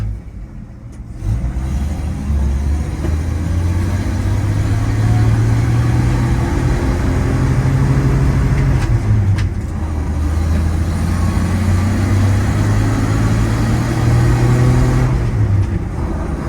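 A restored 1953 Chevrolet 3100 five-window pickup pulls away in first gear and accelerates, its low engine drone rising and falling through several long revving sweeps, heard from inside the cab over steady road noise.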